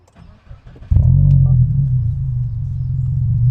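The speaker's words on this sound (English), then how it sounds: "I want you guys to hear the exhaust" A Subaru WRX car engine with an Invidia R400 aftermarket exhaust fires up and settles into a deep, loud exhaust rumble that drones steadily and close by.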